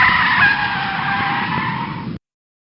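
Tire screech braking sound effect: one long, loud skidding squeal held for about two seconds, then cut off abruptly into silence.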